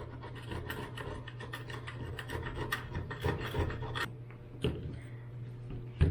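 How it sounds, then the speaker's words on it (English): Old material is scraped by hand off a part of a 120v vaporizer during a conversion repair, without a vise. Close, repeated rasping strokes come in an uneven rhythm over a steady low hum. "Just scrape that off."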